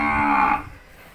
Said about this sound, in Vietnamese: Đây còn ba con bò nhất này.